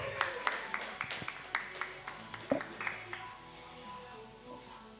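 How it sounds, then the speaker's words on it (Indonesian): A small audience applauds Rehan with scattered, fairly faint claps for about three seconds, then the clapping fades into quiet room noise. "Oke boleh tepuk tangan buat Rehan."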